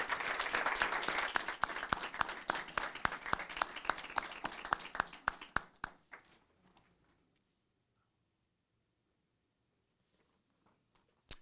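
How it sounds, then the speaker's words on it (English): Applause from a city council meeting audience, a dense run of claps for about six seconds that thins into scattered hand claps and fades to near silence, with a final faint clap near the end. "if we could give them a big Moreno Valley round of applause"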